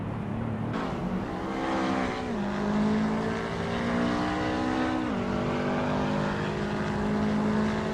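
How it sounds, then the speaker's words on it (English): A Volkswagen Golf GTI and other race cars run in a racing video game, with engines revving up through gear changes, rising pitch sweeps and a steady loud roar throughout. "Indigo Peta's Volkswagen Golf GTI is holding a solid 5th place."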